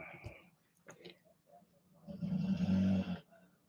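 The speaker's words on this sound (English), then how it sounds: "It's the dog snoring." A dog snores, a faint low rasping breath in the quiet that swells into one louder, rumbling snore near the end, with soft indistinct sounds before it.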